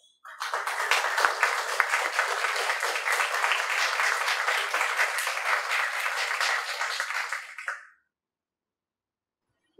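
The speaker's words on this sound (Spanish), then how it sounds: "Por favor, recibamos con un voto de aplausos." Audience applause at a university engineering event, a steady dense wash of clapping lasting several seconds, moderately loud, then cutting off into silence.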